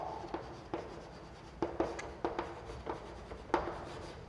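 Chalk or marker taps and scrapes on a classroom board in a biology lecture, a series of short, distinct strokes at an uneven rhythm, close and moderately quiet with no speech.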